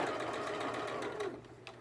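A sewing machine stitching a quilted, self-binding table cloth at its default stitch length, running in a quiet, steady rapid clatter for under two seconds before easing off.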